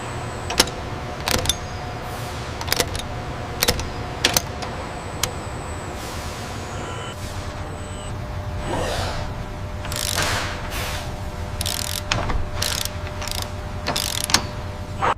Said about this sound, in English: Engaging torque wrench now.